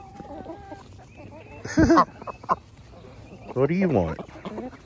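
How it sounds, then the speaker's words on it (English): Chickens and ducks in a backyard flock cluck and squawk over a treat, with a few loud bursts close by, while a person talks to the birds throughout. "Well, I think the ducks and the chickens like it."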